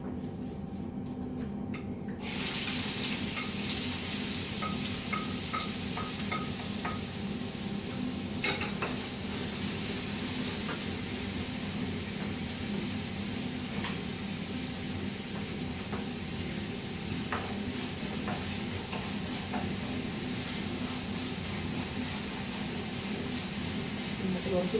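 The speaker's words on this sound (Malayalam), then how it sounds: "അതിട്ട് മൂപ്പിച്ചെടുക്കാം" Chopped garlic, ginger, two onions and green chilies sizzle and sauté in a hot pan with a continuous loud frying hiss, broken by occasional stirring clicks and scrapes.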